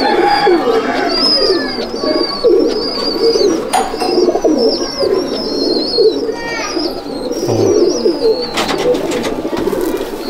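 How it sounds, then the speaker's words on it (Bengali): Many pigeons cooing together inside a pigeon loft at Sangrampur, a dense rolling murmur of overlapping coos close by, with small birds chirping sharply above and a few brief knocks and rustles. "এটা হচ্ছে আমার মাদি পায়রা"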